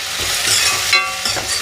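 Chopped tomatoes with salt fry and are stirred in a pan. A loud, close, continuous sizzle carries light scraping from the stirring, and there is no talking.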